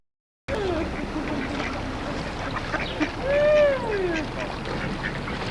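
Ducks quack near water where swans are being fed, with several nasal calls and a longer drawn-out quack rising over a busy outdoor background of murmuring voices and lapping water.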